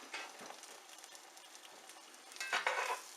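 A flipped omelet cooks in a cast iron skillet with a soft, quiet sizzle, broken by light spatula scrapes and a louder burst of frying toward the end.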